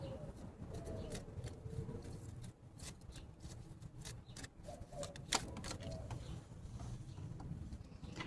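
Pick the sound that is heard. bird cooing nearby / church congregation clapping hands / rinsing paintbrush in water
bird cooing nearby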